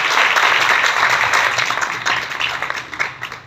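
A church congregation gives loud, vigorous applause for God at a Sunday service, a thick, steady roar of many hands clapping at once that thins slightly toward the end.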